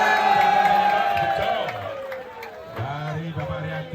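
Crowd at a cow contest in Kediri cheering and whooping loudly for several seconds, with voices mixed through the noise.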